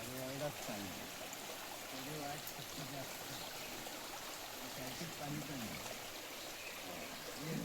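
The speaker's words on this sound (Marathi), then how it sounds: "वाहता पाणी येतो बघ" Water flowing in a stream during a crab-hunting outing, a steady close rush and trickle throughout, with people talking over it.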